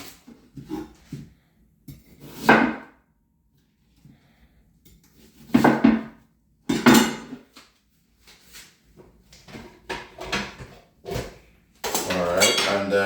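Kitchen clatter of pots, pans and utensils while habanero peppers are cut for a blender, with intermittent knocks and clinks in loud bursts and a sustained rattling stretch at the end.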